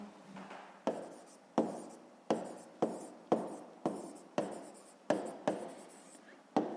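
Pen or chalk writing out a sixth-grade math solution, a series of about eleven sharp strokes and scratches in a steady rhythm, close and clear with no talk.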